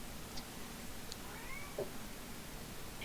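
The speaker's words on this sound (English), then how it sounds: "Is that your cat in the background?" A house cat meows faintly in the background of a room, a couple of short, distant calls under a steady low hiss, with no talking.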